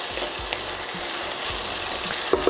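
Okra cooks in a hot pan with carrot and seasoning for a Jamaican callaloo dish, giving a close, steady sizzle and crackle with a few light stirring clicks, no voice.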